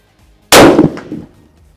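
Single loud, close crack of a bolt-action rifle shot at a steel target, ringing briefly with a short metallic tail, no talking.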